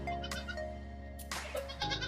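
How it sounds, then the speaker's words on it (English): Goats bleating in a farm pen, several overlapping wavering calls close by, one swelling loudly midway, over a steady low background hum with no talking. "The goats are back."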